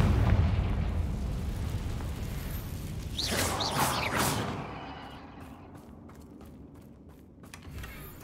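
A Confringo fire spell blasts in Hogwarts Legacy, a sharp fiery burst near the middle followed by a fading rumble and a few crackling pops, with game ambience beneath.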